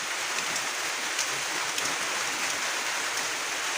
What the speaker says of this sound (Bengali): দেখি মেঘ লাগছে, বৃষ্টি পড়তেছে।